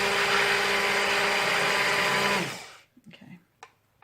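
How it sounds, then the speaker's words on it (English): A stick blender whirs loudly and steadily through cold-process soap batter for about two and a half seconds, then cuts off, followed by a few soft clinks and handling noises. "Oh no, I want the stick blender."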